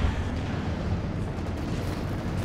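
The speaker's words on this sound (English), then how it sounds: "It's like a Panzerwerfer barrage forced away those" Rocket artillery barrage from Panzerwerfer launchers in the World War II strategy game Company of Heroes 2, a dense continuous rumble of overlapping blasts and low booms lasting throughout, loud and close with no voices.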